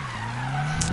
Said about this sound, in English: Oh my god, I'm gonna crash into that Hot Wheel thing.